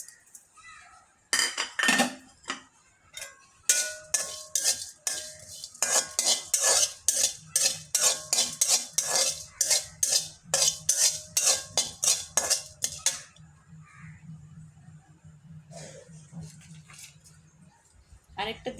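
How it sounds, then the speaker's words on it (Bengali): Cumin seeds, two cardamom pods and cinnamon stick dry-frying in a pan for a chicken curry spice blend, heard as a busy run of sharp metallic scrapes and clinks from stirring, close and loud, with a low sizzle under a voice near the end. "এটা প্রথমে আমি জিরাটা ভেজে নিব।"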